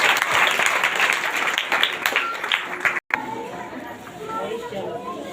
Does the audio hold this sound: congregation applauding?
yes